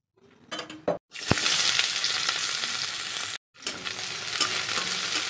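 Dried red chili dropped into hot oil to temper dal gives a loud, steady sizzle that bursts in after a short pause, briefly cuts out, then resumes with faint clinks of a utensil.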